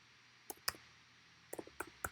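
Sparse clicks of typing on a computer keyboard, a few isolated keystrokes then a short burst, faint and close with quiet background.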